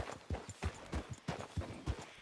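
Horse hooves clip-clop at a steady walking rhythm in Red Dead Redemption 2, about seven even, close, moderately loud footfalls with no talk over them.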